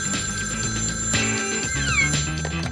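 A cartoon telephone rings in a French animated series: a bright, trilling electronic bell in repeated bursts, up close and alone, with a brief sliding tone near the end.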